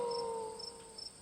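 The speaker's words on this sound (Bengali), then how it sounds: "ক্রমাগত ঝিঝি পোকার ডাক শুনতে পাচ্ছি" Crickets chirp steadily from forest beside a quiet village path at night, a continuous thin trill with faint repeated pulses, moderately distant and alone.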